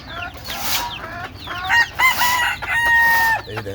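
Native hens cluck in short bursts while a rooster crows with drawn-out calls, several birds close by, loud and overlapping with no talk.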